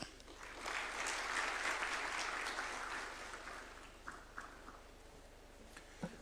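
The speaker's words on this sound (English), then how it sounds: "Tumpongeze tena kwa makofi" Applause from an audience at a State House reception for the Harambee Starlets and Junior Starlets women's football teams, a sustained, fairly distant burst of clapping that swells early, then thins into scattered claps.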